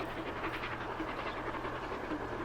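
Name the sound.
train passing by in the video game Transport Fever 2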